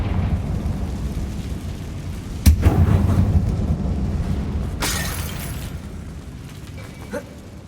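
Loud explosion of the Confringo spell in Hogwarts Legacy inside an abandoned mine, a sharp blast at first followed by rumbling debris, then a second hissing burst that fades out.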